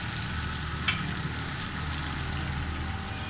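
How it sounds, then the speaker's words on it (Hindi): Meat frying in a pan for Peshawar-style chicken charsi karahi, a steady close sizzle running throughout with a brief clatter near the start and no talking. "गोश्त को मैंने अच्छी तरह फ्राई कर लिया है"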